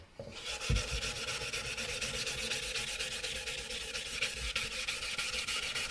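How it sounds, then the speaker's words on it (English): A tenor ukulele is wet-sanded by hand with 800 grit paper over a first coat of tung oil. Steady, close, abrasive rubbing strokes continue throughout with no talking. "to really get it nice and smooth with this 800 grit paper"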